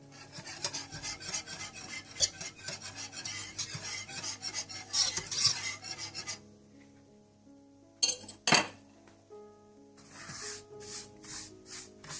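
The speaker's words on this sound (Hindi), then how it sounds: "इसमें आप सेवइयों को डाल लें और इन्हें आप हल्का सा ब्राउन कर लें।" Vermicelli is stirred in a hot pan with repeated scraping and rasping strokes of a utensil, plus occasional metallic clinks against the pan; the sound comes in uneven bursts with short pauses and no talk.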